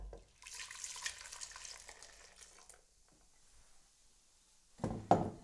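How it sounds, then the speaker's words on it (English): Stout pours into a pan on low heat for Jamaican Easter bun, a soft liquid splash and gentle sizzle that fades after about three seconds, then a brief louder clatter near the end. "I have my pan here on low heat and I'm going to add the stout"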